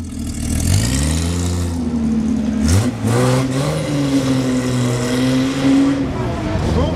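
Jaguar engine rising and falling as the first car sets off at dawn on a Vosges mountain passes rally, loud close revs with gear-like pitch sweeps and a brief break midway.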